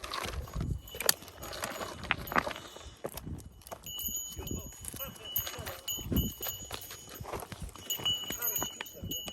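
Goat hooves clatter irregularly on hard ground as the goats walk about, with scattered quiet movement and faint background tones.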